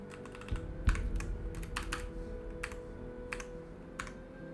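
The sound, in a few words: loud computer keyboard typing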